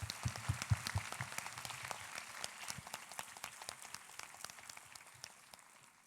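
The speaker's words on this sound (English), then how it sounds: "Can we all have a round of applause for our chief guest" An audience at a school opening ceremony applauds the chief guest, dense clapping that starts stronger with some low thumps and gradually thins and fades over several seconds.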